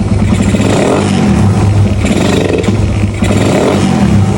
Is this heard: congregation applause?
no